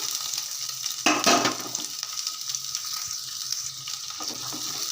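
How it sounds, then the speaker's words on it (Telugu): Cumin, mustard seeds, chopped onions, carrots and three green chillies crackle and sizzle in hot oil, with a sharp burst of spattering as they hit the pan, then a steady close frying hiss with no talk. "మనకు ఆయిల్ వేడెక్కాక జీలకర్ర ఆవాలు అలాగే కట్ చేసి పెట్టుకున్న ఆనియన్స్ క్యారెట్ పచ్చిమిర్చి మూడు అయితే వేసేస్తున్నాను"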